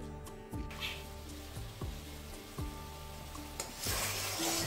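Someone talks quietly in a kitchen, then a little water is splashed into a hot kadai while making payesh, giving a sudden hissing sizzle near the end.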